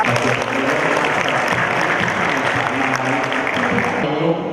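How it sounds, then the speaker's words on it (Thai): Audience applause welcoming youth presenters at the closing ceremony of a Thai youth program, a dense, steady clapping that fills the hall and cuts off near the end. "ขอเสียงปรบมือต้อนรับด้วยนะคะ"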